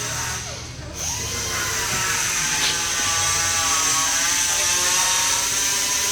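A 2021 Stryker 2916 toy hauler's stabilizer jack motor runs as a steady, loud mechanical whine with a continuous high-pitched drone, alone with no talk.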